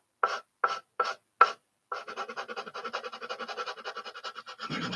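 A file works the seam line on a plastic AMT 1977 Ford model car: four separate scraping strokes, a pause, then a fast, even run of rasping strokes, close and fairly quiet.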